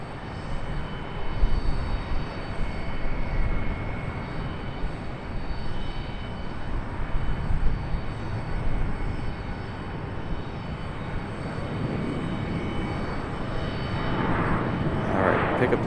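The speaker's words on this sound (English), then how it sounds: "Pick up the 737 departing." Boeing 737 departing Charlotte Douglas International Airport, a steady broad jet engine roar that holds loud throughout and stays distant to mid-range, with no talk.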